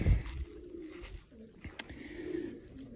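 A breeding flock of domestic pigeons coos softly in low, rolling calls close by, with a few light taps and rustles and no talk.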